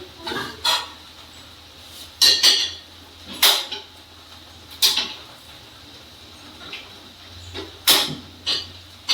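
Sharp metallic clatters of a frying pan and utensils while tempering dal, several separate knocks and scrapes spaced irregularly, fairly close with a quiet kitchen hum between.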